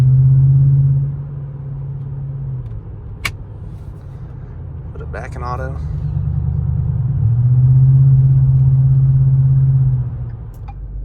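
A 2012 Ford F-150 fitted with an ARH catback exhaust over stock headers, catalytic converter and Y pipe, idling with a deep, loud low rumble that swells twice as the engine revs up and settles back; someone speaks briefly partway through.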